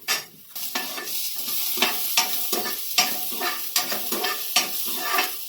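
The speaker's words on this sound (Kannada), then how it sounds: "ಈ ಥರನ ಸ್ಪೂನಿಂದ ಈ ಥರ ಫ್ರೈ ಮಾಡ್ಕೊಂತ ಇರಬೇಕು." Sweet corn kernels fry in oil in a pan while a spoon stirs them, a close steady sizzle broken by rhythmic scraping strokes roughly every second, with no talking.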